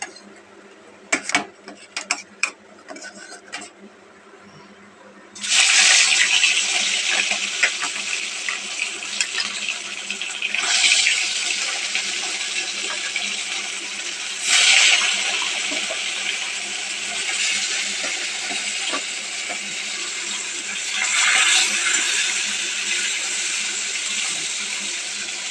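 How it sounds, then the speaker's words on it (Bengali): Fish dropped into hot oil in a home kitchen, a few clicks and taps followed by a sudden loud sizzle that keeps crackling, swelling in several bursts. "মাছটা ভাজতে দিয়ে দিই।"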